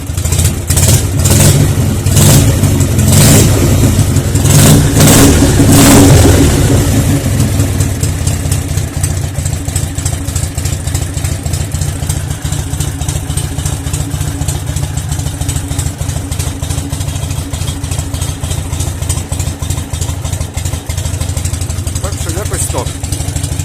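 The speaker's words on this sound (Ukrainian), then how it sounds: "Але працює хорошо. Оберти набирає, все, чітко." A Dnipro MT motorcycle engine revs up hard in several loud bursts, then settles into a steady, close idle that runs on for the rest of the stretch, with no voices over it.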